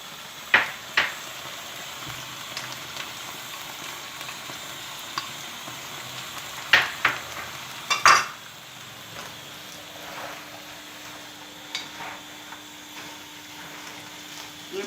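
Onions, garlic and red onions stirred and fried in a pan, giving a steady low sizzle throughout with occasional sharp clinks and scrapes of a spoon against the pan.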